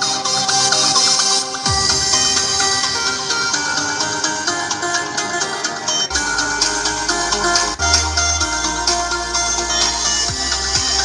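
An 8-inch mid-bass woofer for a tower speaker plays test music at low volume, with a steady musical signal and a deep bass line throughout and no talking.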